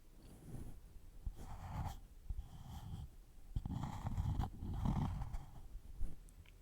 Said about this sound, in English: I'm gonna draw some shapes, and you tell me what shape I'm drawing based off the sound